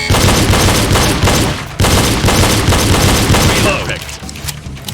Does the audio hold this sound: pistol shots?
yes